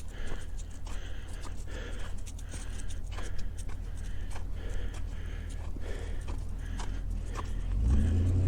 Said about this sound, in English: you wouldn't know it, but that's a Honda Civic right there